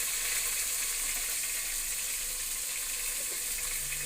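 Meat going into a large pot of haleem, giving a steady, dense sizzle and hiss that stays loud and even throughout at close range.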